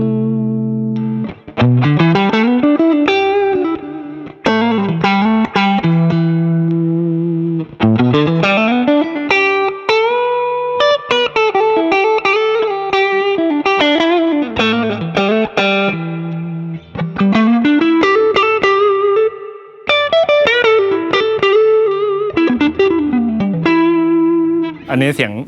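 An electric guitar with a single-coil pickup plays a basic clean tone through an amp voiced on Fender and Marshall styles. Clear picked notes, chords and sliding runs ring out steadily and loudly for about half a minute.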